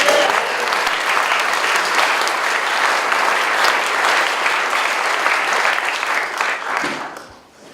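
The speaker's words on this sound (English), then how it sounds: "Give them a round of applause." An indoor crowd at a San Francisco campaign event applauds the USF security team with dense, sustained clapping that holds loud and even for several seconds, then tapers off at the end.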